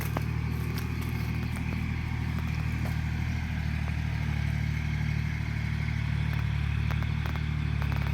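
Small farm tractor with little tyres, its engine a continuous mid-distance clattering drone with a few sharp knocks on top, steady throughout.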